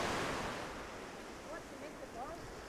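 Ocean waves at a Sydney beach, a broad windy surf wash that is loudest at first and then settles to a steady roar, with faint voices in the background.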